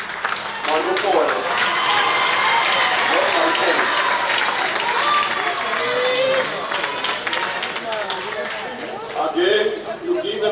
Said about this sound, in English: can you give a very big round of applause for Marcel Monopole?